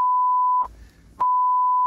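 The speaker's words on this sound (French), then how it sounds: "Non mais de toute façon je vais biper" A steady electronic censor beep sounds, cut briefly by a short burst of muffled talk, then the tone resumes loud and continuous.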